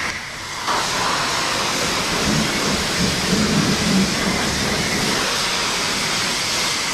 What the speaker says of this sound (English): I want to change this to high pressure rinse.